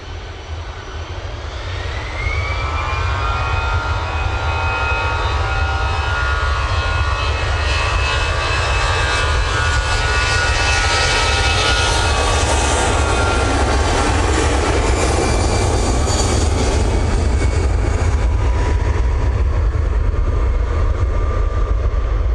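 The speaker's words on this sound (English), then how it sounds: "EasyJet now on the roll." An EasyJet airliner on its takeoff roll at Manchester Airport, jet engines spooling up into a loud, sustained roar with rising whine that swells and holds steadily, heard from outside the aircraft.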